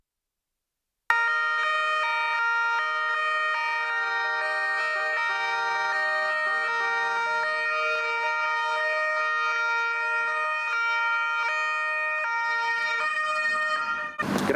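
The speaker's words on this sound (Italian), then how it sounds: "Il suono delle sirene squarcia il silenzio irreale di una tragedia che non ha confini" After a second of silence, a loud, sustained siren tone sounds continuously and steadily, cutting off abruptly at the end.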